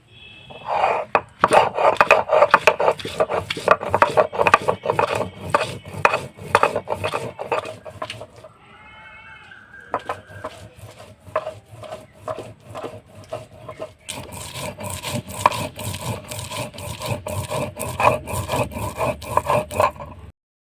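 Spices being ground by hand on a grinding stone for an oil-free chicken curry, with close, repeated rough scraping and rubbing strokes in a steady back-and-forth rhythm and a brief pause midway.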